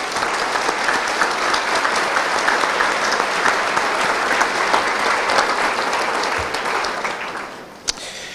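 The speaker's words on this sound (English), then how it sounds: "if we're going to give lots of rounds of applause" A school academic awards audience claps in sustained, dense applause that holds steady, then tapers off near the end with a single sharp knock.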